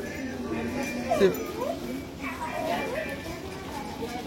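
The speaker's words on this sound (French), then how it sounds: "Regarde le petit chien." A small dog whimpers and yips in a home, with faint rising whines between soft household noise while someone speaks in French nearby.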